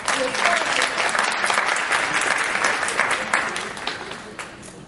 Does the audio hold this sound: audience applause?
yes